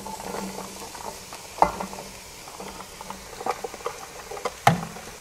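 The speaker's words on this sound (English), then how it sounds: "We're going to add all of our potatoes." Potatoes tumble into a soup pot of sautéing vegetables for cheddar broccoli potato soup, giving soft thuds and clatters over a low sizzle, with a couple of sharper knocks near the end.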